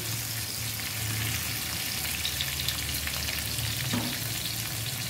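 Vegetables such as beans, cauliflower, carrot and pointed gourd going into onions frying in a pan for vegetable noodles, giving a continuous hissing sizzle with faint stirring and a single brief knock, and no talking.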